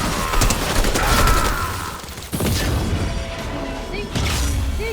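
Rapid pistol gunfire in a video game while shooting at enemies, with dense continuous shots, booms and crashing effects layered over game sounds throughout, with a sharp burst partway through.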